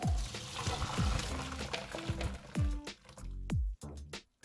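Cooked cassava being drained, with water pouring and splashing out in uneven gushes and a few drips over several seconds, close and fairly loud.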